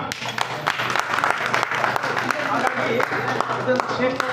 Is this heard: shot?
no